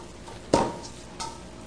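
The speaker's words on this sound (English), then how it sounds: "And stir it some more." Sushi rice being stirred after rice vinegar is added, giving one sharp scrape or clack of a utensil against the bowl and a fainter second one a moment later.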